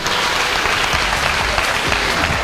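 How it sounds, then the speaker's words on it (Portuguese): A crowd at a youth public policy conference applauds steadily, a dense wash of clapping hands that holds at full strength throughout without letting up. "Salva de palmas para Naftali, por favor."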